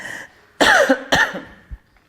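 A couple of sharp, harsh coughs close to the mic, separated by a short pause, with a faint low throat sound trailing after.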